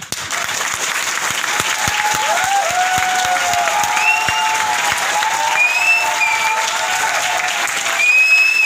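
Audience applause at a motivational business talk, a dense, loud burst of clapping that holds steady for about eight seconds, with faint whistles and voices in the crowd.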